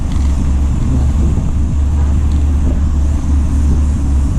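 A car passes along a road in Barangay Bagbag, heard as a loud, steady engine and tyre rumble with wind buffeting the microphone throughout.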